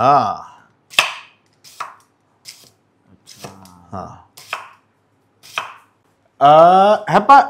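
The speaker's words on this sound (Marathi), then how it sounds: "असा पातळ पातळ चिरून घ्यायचा" A knife chops potato into thin slices, making a few sharp, isolated cuts on a board between stretches of voice.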